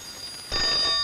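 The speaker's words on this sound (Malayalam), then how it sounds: "ഫോൺ ബെല്ലടിക്കുന്നത് നിനക്ക് കേട്ടൂടെ" A telephone bell starts ringing midway through, jumping from near-silence to a loud, steady, bright ring that continues to the end with no voices.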